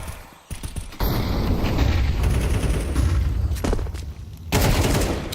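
Gunfire sounds come from a competitive video game shooter match as rapid bursts of shots and mechanical clatter, with loud sustained volleys broken by brief pauses.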